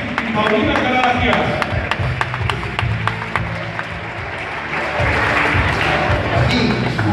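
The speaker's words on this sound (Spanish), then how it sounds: "Fuertes aplausos para Mili y Paulina Caragia." Crowd at a live wrestling show applauding and cheering steadily through the whole stretch, dense and loud, with an announcer talking over it.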